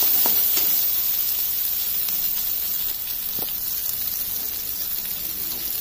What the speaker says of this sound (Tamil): கருவேப்பிலை, நறுக்கி வச்சிருக்கிற வெங்காயம் போட்டு லைட்டாக வதங்கட்டும்